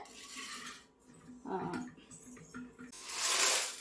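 Metal pots and a cooker clank and scrape as they are picked up and set down, in short irregular bursts of clatter.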